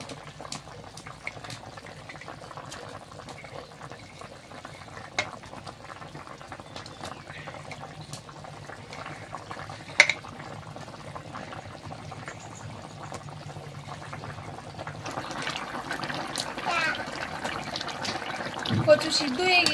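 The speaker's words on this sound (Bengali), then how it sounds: "তরকারিটা আমার ফুটে উঠেছে, এবার মাছগুলো দিয়ে দিচ্ছি" A pot of curry bubbles on the boil before tilapia fish goes in, a soft, steady simmer with small pops, heard close and growing busier and louder toward the end.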